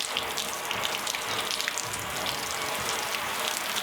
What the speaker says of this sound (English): Just gonna rinse it off.